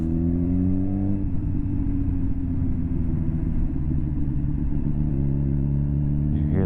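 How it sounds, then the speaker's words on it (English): A BMW S1000XR motorcycle engine runs steadily and loud on a dyno, with a low droning rumble and an uneven, jittery stutter. The pitch shifts partway through, and the engine keeps going for the whole stretch. "You guys can hear my bike stutter."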